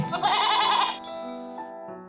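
A goat bleats once in a quavering, wavering cry, close and clear, then fades out over quiet.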